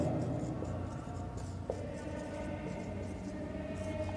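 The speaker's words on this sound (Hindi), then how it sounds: "एक लाइन लिखता हूं मैं" A line is written on a classroom board during a physics lesson, giving faint, soft scratching strokes against a low, steady room background.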